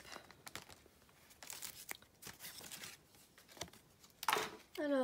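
Cardboard packaging on a Pokémon card box is torn open up close in several short rips and crinkles, with a voice speaking briefly at the end.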